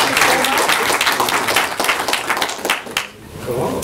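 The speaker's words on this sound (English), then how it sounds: "join me again in another applause" Dinner-time applause from a conference audience at a smart grid panel session, a dense, steady wash of clapping that holds loud for several seconds, dips briefly, then swells again.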